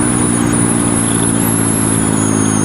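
A cheap Chinese 125cc Honda clone motorcycle drones steadily at riding speed, loud and close, with a constant engine hum and thick wind roar throughout.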